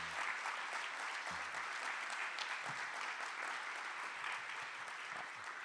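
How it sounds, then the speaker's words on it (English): Steady, fairly faint applause from a summit audience honoring a board of directors, with dense even clapping filling the whole stretch and no one speaking. "you better make sure that you get a good round of applause"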